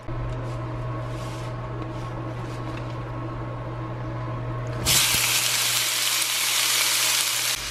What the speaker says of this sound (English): Once it is really, really hot, I mean smoking hot, we're gonna go ahead and add in our salt and peppered shrimp.